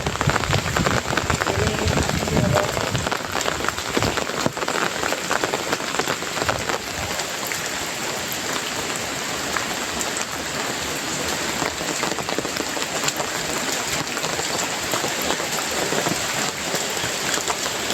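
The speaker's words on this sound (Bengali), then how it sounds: "আর এখনও হালকা হালকা বৃষ্টি পড়ছে" Light rain falls steadily on village fields and a waterlogged road, making a continuous close hiss of drops with no talking.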